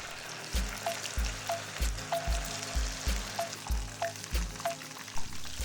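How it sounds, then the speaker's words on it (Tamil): Chicken 65 deep frying in hot oil, a soft continuous sizzle with a rhythmic series of stirring or scooping knocks about every half second, fairly quiet and close. "இப்போ எண்ணெய் நல்லா காஞ்சிடுச்சுங்க, பொரிச்சு எடுத்துக்கலாம்."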